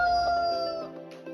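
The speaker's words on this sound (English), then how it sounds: "Rooster." A rooster's crow from a children's farm learning game, a single synthetic-sounding cock-a-doodle-doo with a long sustained tone that fades out over about a second.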